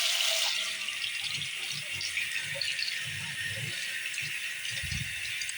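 Kitchen tap water runs into a sink in a steady hiss, with faint rattles and knocks of handling in the basin; no one speaks over it.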